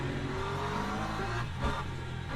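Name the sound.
McLaren race car engine in Le Mans Ultimate video game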